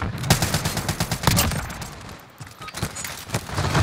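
Gunfire in a multiplayer shooter video game, a loud, dense run of rapid automatic shots with overlapping bursts and a brief lull near the middle before firing picks up again, close and continuous.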